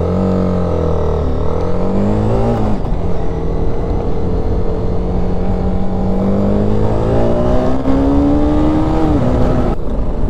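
A TVS Apache RR310 motorcycle in urban mode accelerating hard, its engine note climbing steadily through gears in loud, continuous rising revs with short dips at each shift, heard close up.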